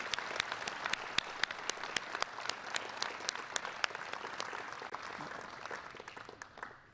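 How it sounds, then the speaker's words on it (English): Applause from an audience at a Chicago press conference on upcoming construction projects, a steady round of scattered clapping with some sharp individual claps standing out, sustained for several seconds before fading. "Let's take a moment to give a round of applause for our infrastructure departments and sister agencies."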